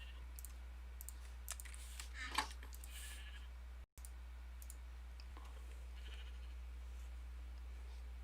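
A faint, synthetic-sounding Minecraft sheep bleat rises once amid soft clicking, over a low steady hum.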